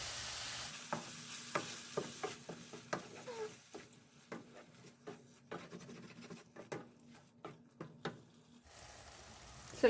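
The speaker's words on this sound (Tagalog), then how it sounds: "Ngayon, ilagay na natin ang Italian sauce" Spaghetti sauce of Italian tomato sauce with pork cubes is stirred in a pan, giving a faint sizzle under repeated spoon scrapes and taps in an irregular rhythm, close and quiet.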